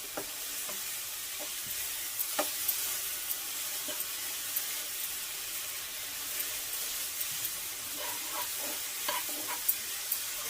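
Melting jaggery syrup for coconut laddus crackles and hisses in the pan as it is stirred, giving a continuous bright bubbling with scattered scraping ticks and no voices.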